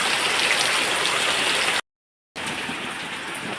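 Steady heavy rain pours down in a dense, hissing wash, briefly cut to silence midway before resuming just as strong.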